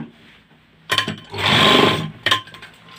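A sewing machine stitches a shirt cuff close by and loudly. A short burst of stitching is followed by a longer steady run and then another brief burst.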